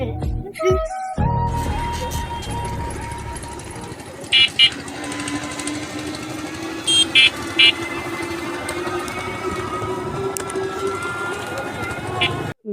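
A motor van rolls along a village road in Bengal during jute season: a continuous engine drone and rattle with occasional birdsong and brief higher chirps, and voices talking over it.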